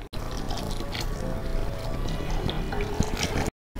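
Melted jaggery poured into ground jackfruit paste in an uruli gives a continuous, close liquid pour with drips and gurgles that stops abruptly near the end.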